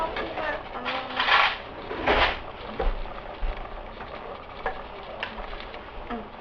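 Chili being mixed in a cooking pot gives irregular scraping and stirring scuffs with faint sizzling underneath, close and moderately loud, with voices talking faintly in the background.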